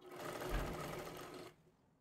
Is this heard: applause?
no